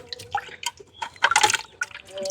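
A papaya is rinsed under water, with splashing and dripping in irregular bursts close by.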